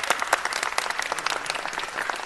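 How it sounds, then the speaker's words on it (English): Close, dense clapping fills a council chamber as the audience applauds a librarian, sustained and even with a few sharper claps standing out. "another big round of applause"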